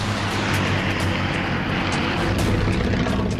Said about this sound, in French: Des Mustangs du 47e Fighter Squadron décollent de l'île d'Iwo Jima